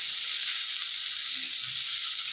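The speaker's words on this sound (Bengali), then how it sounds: "একটু আঁচ বাড়িয়ে মাছ ভাজাটা বসিয়েছিলাম" Fish frying in a pan over raised heat gives a steady, loud, bright sizzle and hiss that carries on unbroken with no talk over it.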